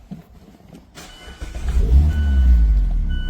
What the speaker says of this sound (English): If I go into the Miata and start up